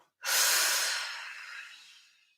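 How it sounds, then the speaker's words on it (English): A single deep, forceful exhale during a home yoga fitness workout, loud and close with a sharp onset that gradually fades over about two seconds, with no talking. "take a big deep breath in, blow the breath out"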